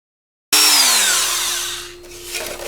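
A drill abruptly starts up at full speed, whining loudly as it bores into a plastic 1998-2002 Honda Accord headlight, its pitch dropping and then rising again near the end.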